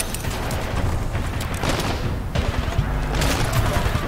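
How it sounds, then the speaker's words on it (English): Double-barrel sniper rifle firing in Titanfall 2, a loud, dense burst of game gunfire and booms running continuously throughout with little pause. "It has two barrels. Double barrel sniper."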